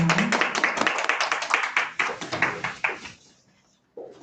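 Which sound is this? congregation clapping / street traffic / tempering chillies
congregation clapping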